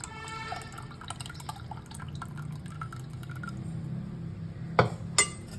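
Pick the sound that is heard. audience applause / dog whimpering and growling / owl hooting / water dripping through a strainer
water dripping through a strainer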